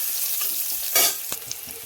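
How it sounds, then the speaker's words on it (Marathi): Onion frying in hot oil in a pan for paneer matar, a brief close sizzle with a sudden loud hissing burst midway and a couple of quick stirring scrapes. "ऑनियनला चांगलं भाजून घ्यायचं"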